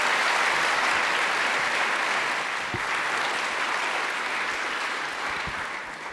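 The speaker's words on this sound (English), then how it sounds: "Big round of applause, please, Radomir." Conference audience at a EuroPython 2018 lightning talk session applauds a speaker, a dense, sustained wash of clapping from a large room that holds steady and fades only slightly toward the end.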